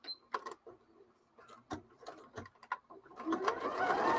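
A sewing machine runs in short bursts while back-stitching the end of a seam on a fabric project, its quick mechanical chatter close and fairly quiet, with pauses between bursts and a steadier run near the end.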